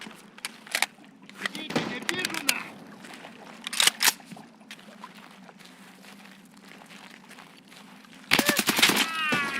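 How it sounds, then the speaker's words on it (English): Gunfire and explosions in Escape from Tarkov, with sharp scattered bangs and bursts at varying distances over a low ambient drone, a heavier volley near the end, and someone talking now and then. "There's a lot of grenades going off."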